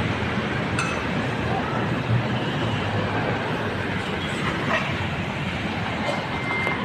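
An LRT light rail train passes, producing a continuous broad rumble and rushing noise with a few faint metallic clinks, steady and fairly loud throughout.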